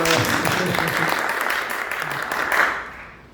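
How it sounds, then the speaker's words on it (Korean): A church congregation applauds during Sunday worship to welcome a missionary back into the country, a steady wash of clapping that swells briefly near the end and then fades out, with some voices mixed in beneath. "박수로 환영합니다."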